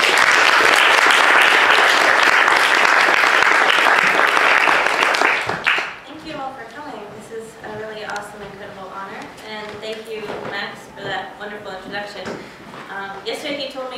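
An audience applauds to welcome a seminar speaker, dense steady clapping filling the room for about five seconds before fading out as the speaker begins talking.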